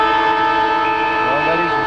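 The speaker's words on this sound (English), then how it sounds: "Well, that is the siren to end the third quarter" At a 1987 Brisbane versus Geelong Australian football match, a steady, loud horn-like siren ends the third quarter, sounding continuously over stadium background noise.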